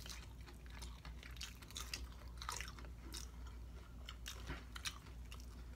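Close, quiet biting and chewing of crunchy chicken tacos, with repeated crisp crunches spread steadily across the stretch and no talking.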